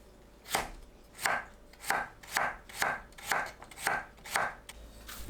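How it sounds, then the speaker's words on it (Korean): A knife slices radish into flat bite-size pieces on a cutting board, eight evenly spaced chops in a steady rhythm, close and clear with no talking. "무를 한입 크기로 납작하게 썰어주세요."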